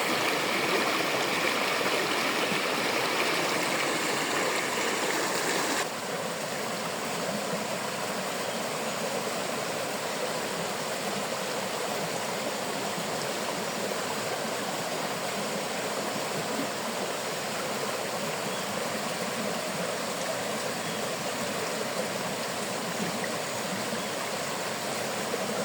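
A freshwater stream at Vila Cachoeira in Maragogi, Alagoas, runs in a steady, loud, continuous rush of water with no breaks.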